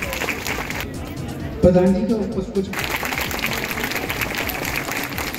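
A crowd claps at a women's empowerment gathering as bouquets are presented. The dense applause runs on and is broken for a moment by someone speaking over a loudspeaker.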